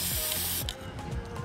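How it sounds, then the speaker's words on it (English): Gray spray paint hisses from an aerosol can as a base coat goes on, a close, loud burst of spray at the start that softens into shorter hissing puffs with faint clicks. "Pour a base coat of gray spray paint."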